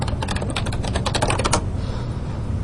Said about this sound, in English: type in the server name